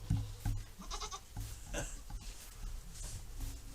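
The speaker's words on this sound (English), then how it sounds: "He's hollering all the time. That's that Nigerian dwarf Billy that we got." A Nigerian dwarf billy goat on a homestead bleats in a few short, faint calls amid rustling and background noise, the cries coming in quick bursts near the start and again around the middle.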